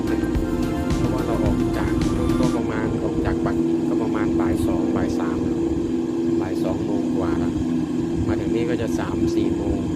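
An airplane in a flight simulator game drones steadily for the whole stretch on a night flight toward Dalian island, a constant engine hum with someone talking over it.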